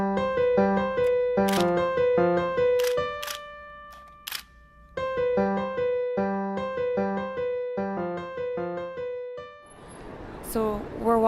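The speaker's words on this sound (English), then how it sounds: "you may hear my shutter go off" Camera shutter clicks from a single-lens reflex camera during street photography on a city street, sharp short snaps set against steady tonal music with a brief noisy burst near the end.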